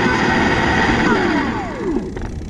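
A Luna Cycle X-1 Ludicrous electric bike runs at full throttle on a flat driveway, its motor whine sweeping down in pitch against a loud, steady drone, heard close with no talk.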